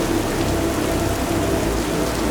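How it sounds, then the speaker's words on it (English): Steady, dense rain pours down without a break, a heavy continuous wash of noise with a low rumbling undertone throughout. "the rain started falling heavily"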